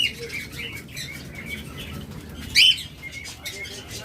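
Small caged pet birds such as lovebirds and budgerigars chirping and twittering nearby, with a brief louder burst of calls and fluttering wings partway through.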